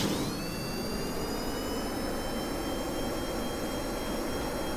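A manned fighter jet roars on takeoff in Kerbal Space Program with BD Armory, a steady loud engine whine and rushing thrust holding constant, a thin rising tone settling into a high hum, with no talking.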